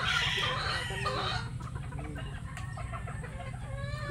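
Hens in a chicken pen cluck and cackle in overlapping calls, loudest at the start and easing into softer scattered clucks over a steady low background hum.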